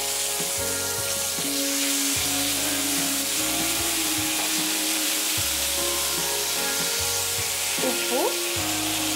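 Black pepper, spices and curry leaves fry in hot oil in a pan for South Indian curd rice, giving a loud continuous sizzle close up with occasional stirring scrapes.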